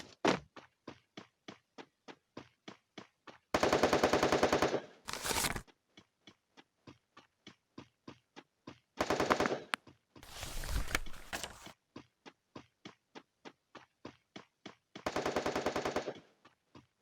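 Gunfire from Free Fire played on a Moto G8 Power Lite phone: regular single shots ticking steadily, broken by several bursts of rapid automatic fire and a few louder blasts, crisp and close with no talking.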